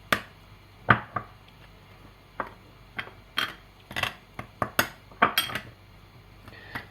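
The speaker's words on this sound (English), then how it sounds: "give it a little stir" A utensil scrapes and clinks against a bowl while low carb peanut butter cookie ingredients are stirred together, about a dozen sharp, close taps and scrapes in an uneven rhythm, with no talking.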